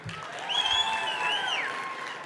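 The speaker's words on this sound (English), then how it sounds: "by applause, if you're getting paid to be here right now, let me hear about it" Applause from the crowd at the 2023 Kentucky Entrepreneur Hall of Fame ceremony forms a soft, steady, distant patter, with a thin whistle rising and holding over it.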